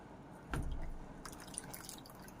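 Water drips from a fabric shawl or maxi freshly dipped in water to test whether its colour runs, with a few soft, faint splashes in a quiet room.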